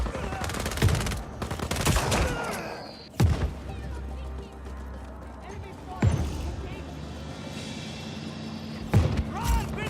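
Shotgun blasts in Just Cause 4, several loud, sharp booms spaced a few seconds apart amid game noise and scattered voices.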